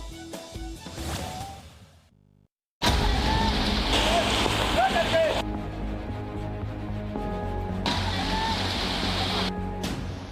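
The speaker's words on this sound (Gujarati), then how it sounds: "સતત વરસાદના કારણે નદીઓ બંને કાંઠે વહી રહી છે" A river in South Gujarat, swollen and running bank to bank after continuous heavy rain, gives a loud broad rushing roar, broken by a brief silent cut. A voice talks over part of it.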